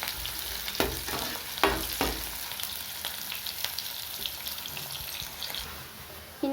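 Sliced big onion sautéing in oil in a pan until golden, a steady crackling sizzle with a few louder stirring scrapes early on, alone with no talk.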